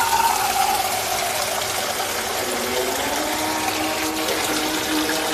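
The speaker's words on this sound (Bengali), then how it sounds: "এখন আলুর মধ্যে পানি দিব।" Water gushes steadily into a pot of sautéed, oil-coated potatoes, a continuous loud pouring rush lasting several seconds with no talk.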